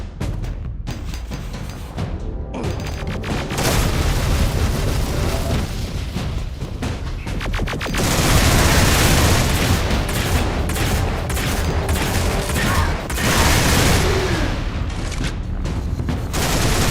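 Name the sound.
tank firing and explosions in Duke Nukem video game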